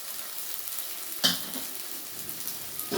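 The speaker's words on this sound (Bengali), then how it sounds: "মশলাগুলো আমি খুব সুন্দর করে ভেজে নেব" Whole spices frying in hot oil in a pan for a Bengali shol fish and potato curry: a soft, steady sizzle with a sharp utensil clink partway through and another near the end.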